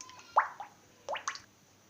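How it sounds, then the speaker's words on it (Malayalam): A few soft liquid plops and drips as oil is poured into a heated pan for frying neyyappam, quiet and close with brief gaps between them. "അതിൽ നമുക്ക് എണ്ണ ഒഴിച്ച് കൊടുക്കാം."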